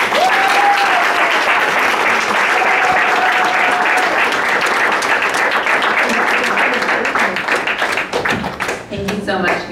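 Sustained, dense applause from an audience at a talk event on ending militarism, steady and loud for nearly ten seconds and thinning at the end, with voices mixed in.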